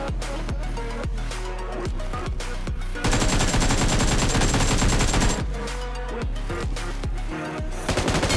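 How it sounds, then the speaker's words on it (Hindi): Rapid automatic gunfire in the PUBG Mobile game, loud dense bursts of shots with brief gaps, sustained and close throughout without any talk. "मेरे सामने वाले अपार्टमेंट में से मुझे काफी ज्यादा गंदी गोलियां चलने की आवाज आती है"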